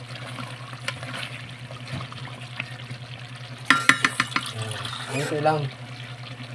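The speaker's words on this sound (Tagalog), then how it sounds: "Lagyan mo konti tubig na." A small splash of water goes into pork humba cooking in a pan, with a brief bright pour and sizzle followed by stirring and bubbling, while a person speaks briefly.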